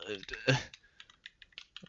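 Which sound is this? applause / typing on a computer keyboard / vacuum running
typing on a computer keyboard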